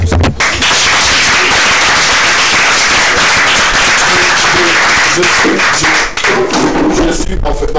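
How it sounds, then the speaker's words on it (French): An audience bursts into loud, dense applause at a televised Togolese event, clapping close and heavy throughout with a few sharp thumps and crowd noise mixed in. "Applaudissez."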